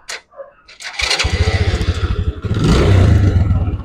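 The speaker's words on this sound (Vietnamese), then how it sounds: "Đó, giờ đề máy lên nè." A motorcycle engine is started: a short click and whir, then the engine catches and settles into a close, loud, steady idle with a slight rise in revs near the end.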